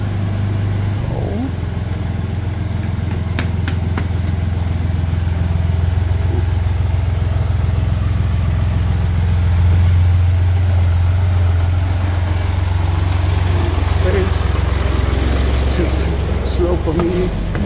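A tractor engine idles and runs nearby on a Jerusalem street near Damascus Gate, a steady low rumble holding throughout with faint background voices and street activity.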